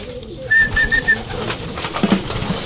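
Pigeons coo in a steady, close flock as they gather to feed, with soft repeated calls and light rustling from the birds.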